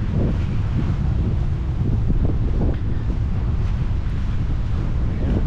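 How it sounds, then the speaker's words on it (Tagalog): Steady wind buffets the microphone at a bus stop in New Zealand with a constant low rumble, continuous and loud, with no voices. "Malamig yung hangin."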